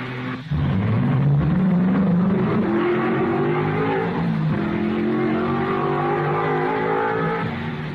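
A 1955 Monaco Grand Prix race car, Stirling Moss driving Fangio's car, slides through the chicane with a loud, unbroken engine howl that climbs and swoops in pitch as it works through the bend, with no talk.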